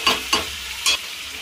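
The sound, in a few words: chicken with cumin and pepper powder being stir-fried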